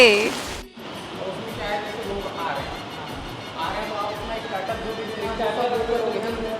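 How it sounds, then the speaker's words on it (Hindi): Rain patters steadily under a voice talking throughout, the wet hiss constant and moderately loud behind the speech. "बारिश में भीगते हुए।"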